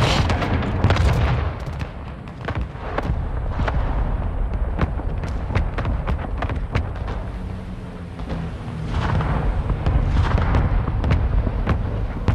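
Airstrike explosions in Call of Duty: Modern Warfare II, a dense, loud barrage of booms and sharp blasts rolling continuously with crackling impacts and rumbling low end.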